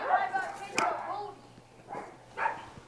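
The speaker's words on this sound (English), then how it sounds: "Don't you love when dogs just start barking and just crush your video in the middle of it?" Pet dogs bark indoors in a few short bursts at moderate distance while people talk nearby.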